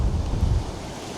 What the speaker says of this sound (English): lots of commotion, lots of wind. So 30 seconds is a really long exposure, especially with the waves like this.